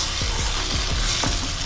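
A sauce loosened with apple cider vinegar being stirred, a bright continuous hiss with a few soft rhythmic scraping strokes, close and fairly loud.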